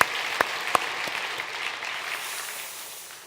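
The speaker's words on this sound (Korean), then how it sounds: "남자들 박수 합시다." Congregation at a Sunday church service clapping for the men who drove eight to ten hours, a steady wash of applause with a few sharp claps standing out early, gradually thinning toward the end.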